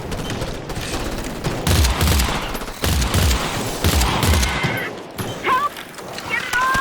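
Gunfire in the EarthFall video game: bursts of rapid shots, loud and close, with game voices shouting between them.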